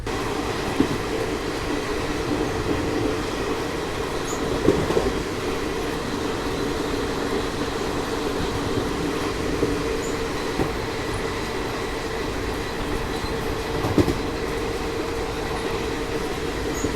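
The Garib Rath express running nonstop between Chennai and Delhi makes a steady rumbling roar heard from inside the coach, with occasional faint clacks of wheels over rail joints.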